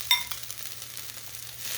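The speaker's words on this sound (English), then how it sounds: "You can hear the sizzle" Steamed potatoes for corned beef hash sizzle and crackle in a hot pan, a steady bright hiss with a sharp pop near the start.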